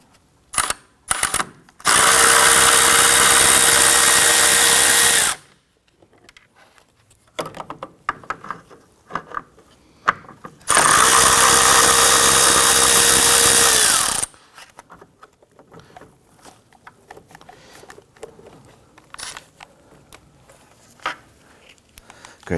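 On a Hyundai Elantra, a power tool loosens and removes 10mm bolts in two loud, sustained bursts of several seconds each, separated by clinks, rattles and handling noises of tools and parts close by.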